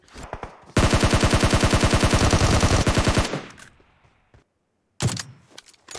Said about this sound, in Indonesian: Tembakan apa itu?